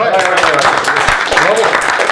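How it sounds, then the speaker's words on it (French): Studio audience applause on a French comedy show about the worst objects bought online, a dense wash of clapping running through the short stretch beneath loud overlapping talk. "Attends, on applaudit, il y a un peu."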